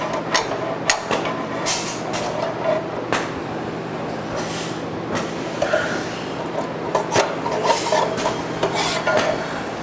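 Metallic clanks and scraping knocks as a metal chip-out block is pushed forward inside a tube with a crowbar or piece of wood, irregular hits and scrapes over a steady machine hum.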